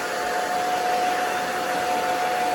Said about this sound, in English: we're just gonna blow dry this up